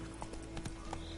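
Horse hooves clip-clopping at a gallop in the video game The Witcher 3: Wild Hunt, a quick run of muffled thuds at a steady rhythm, fairly quiet over a low background hum.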